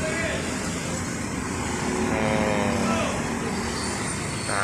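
A Sinar Jaya Suites Class premium coach pulls into a bus terminal to park at the ticket counter, its engine a steady low rumble under a voice.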